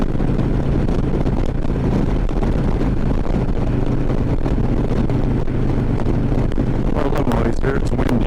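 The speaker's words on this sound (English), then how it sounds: "Well, a little noisier. It's windy." Strong gusty wind roars across the microphone during a motorcycle ride on the interstate, a steady loud buffeting rush with a low rumble that stays constant throughout, and faint talk may sit underneath.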